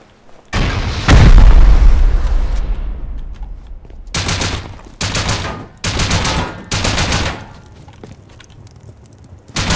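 Rocket explosions in a survival base-raiding game, one heavy booming blast followed by a decaying rumble, then four sharp, loud bursts of rapid gunfire-like impacts in quick succession.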